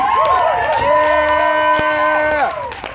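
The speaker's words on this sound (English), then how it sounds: "let's keep that applause going as we welcome Olympia up to the microphone." Poetry slam audience at an arts festival erupting in cheers, whoops and shouting alongside applause, loud and sustained before easing off toward the end.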